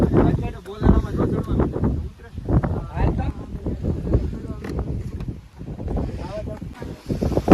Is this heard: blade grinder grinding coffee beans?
no